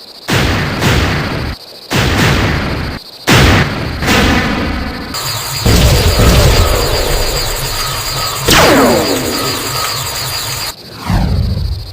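Artillery gun in a War of the Worlds radio drama, with heavy mechanical loading clatter and several loud booming shots in a rhythmic sequence, close and dominant with no talk over it.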